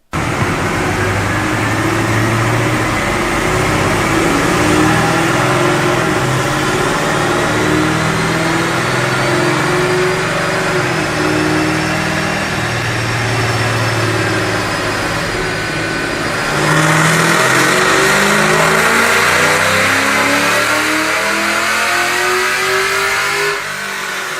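A 2017 Chevy SS fitted with Kooks headers and exhaust revs hard on a dyno, a loud sustained engine roar climbing and holding for over twenty seconds with a brief dip before surging again, no talk.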